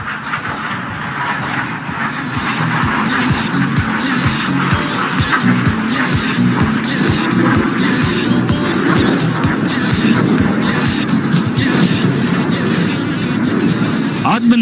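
An LCA Tejas jet roars past inverted during a display at the Dubai Airshow, a loud continuous engine rumble rising and holding over crowd noise, with an announcer talking.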